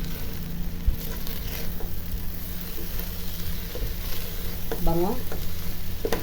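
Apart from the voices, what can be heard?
stirring arroz caldo glutinous rice in a pot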